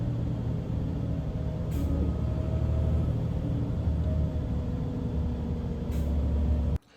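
A bus idles and rumbles close by in a steady low drone, with two brief sharp hisses of air brakes releasing, then the sound cuts off abruptly.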